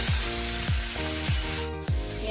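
Cleaned squid hitting a pan of fried tomatoes for a koonthal roast, giving a steady loud sizzle with a few rhythmic stirring scrapes about every half second.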